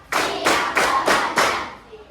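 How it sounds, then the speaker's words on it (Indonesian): A class of pupils in a classroom clapping hands together in unison: five sharp, even claps at a steady beat, followed by a quiet tail. "tepuk satu, tepuk dua, tepuk tiga, tepuk empat, tepuk lima"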